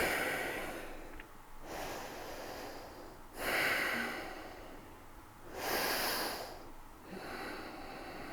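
Slow, deep breaths during yoga practice, each long airy inhale or exhale rising and fading in turn, close and steady, repeating about every two to three seconds with no talk.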